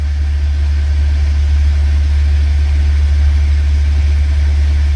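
A pony motor, the small starting engine on a large engine, runs steadily at close range, a loud, even low-pitched drone with a constant idle rumble and no talking throughout.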